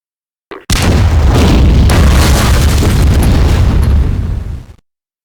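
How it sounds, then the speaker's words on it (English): An orbital laser cannon blast in Garry's Mod erupts as a single loud, sustained booming explosion lasting about four seconds before cutting off abruptly, close and overwhelming with no talk. "it has an extremely powerful orbital laser cannon, which can devastate entire armies in one single blast."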